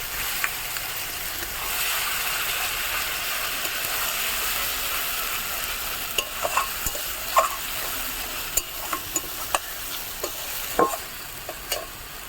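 Onion with ginger-garlic, tomato paste and cashew and melon-seed paste frying in a pan for a katla fish kalia, a steady close sizzle broken by scattered sharp scrapes and taps of stirring, with no voices.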